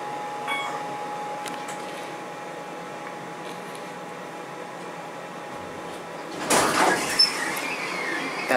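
An Otis Series 1 hydraulic elevator door at a hotel slides open with a sudden, close rush of mechanical noise after a steady hum, no talk over it.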